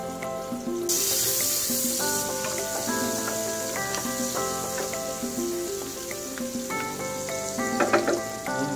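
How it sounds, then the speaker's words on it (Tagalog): Onions fry in melted butter in a pan for chop suey, a continuous loud sizzle that jumps up early and holds steady throughout, with background music playing over it. "Yan, tunawin muna natin yung ating butter. Maglalagay din tayo mga suki ng sibuyas."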